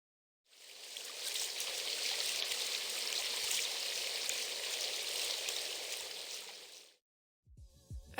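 Splashing liquid-resource cue from the video game Slime Rancher 2: a continuous watery trickle and spatter like running water, holding steady for several seconds before stopping, with a few faint knocks after.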